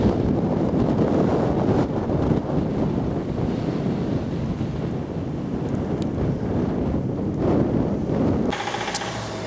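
Strong wind roars and buffets a microphone on a countryside walk on the Knebworth Circular route in March, a loud, steady rush that lasts throughout and eases only in the final second.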